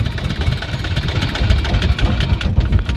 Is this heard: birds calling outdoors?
no